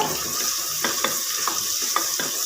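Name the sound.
frying spices with turmeric in a pan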